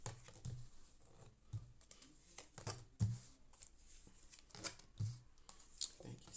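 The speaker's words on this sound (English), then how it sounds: "I'm just going to do a light shuffle" Tarot cards riffle and slide in soft, repeated bursts, a light shuffle with rhythmic taps, close and quiet.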